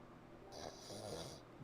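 A person voices an imitation of a snore, a raspy drawn-out rattle with a creaky, door-like quality, heard close and alone in a short burst.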